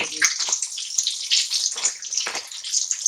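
Two coated chicken pieces for a zinger burger sizzle and spatter in hot oil, a steady close crackling hiss with bright pops throughout.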